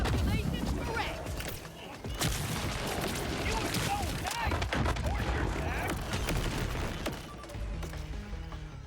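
Gunfire and explosions in Borderlands 4, rapid cracking shots and heavy booms in dense bursts, loud and close, with game dialogue and voices mixed in among the blasts.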